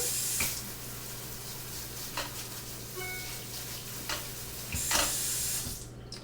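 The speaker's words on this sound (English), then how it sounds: "So I have a colander or a strainer in my sink. And so we take these and we're going to rinse" Tap water runs into a kitchen sink, rinsing grapes in a colander; a faint, steady splashing flow with a few soft clatters and knocks, and no voices.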